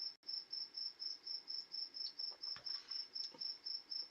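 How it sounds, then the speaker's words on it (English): Crickets chirp in a steady, rapid pulsing rhythm throughout, a continuous high trill in a quiet outdoor setting, with faint background noise and no talking. "I hear a cricket. Oh, we got all kinds of crickets here."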